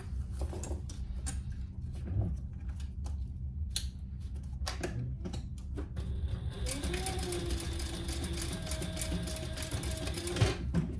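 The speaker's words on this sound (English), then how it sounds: "And then I'll do another row of top stitching." A sewing machine runs a row of top stitching on a crossbody bag, first in short bursts and pauses, then in a long continuous loud whirring run near the end.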